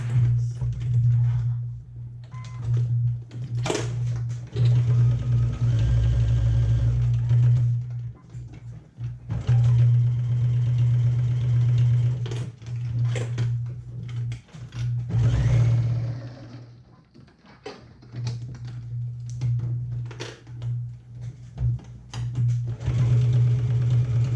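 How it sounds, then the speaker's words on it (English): A domestic sewing machine stitching a 1/2 inch seam in a quilt-along project, its steady motor hum running in long bursts with brief pauses between runs, fairly close and loud with no talking. "So let's sew with a 1/2 inch seam."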